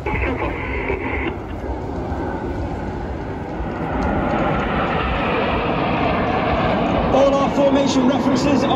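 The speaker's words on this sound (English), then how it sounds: "As the team roll to the left on the far right-hand side, uppermost is Flight Lieutenant Ollie Suckling." Red Arrows jet aircraft performing at the Clacton Airshow give a broad, distant roar that swells and holds throughout, with a voice talking over it on a public address system.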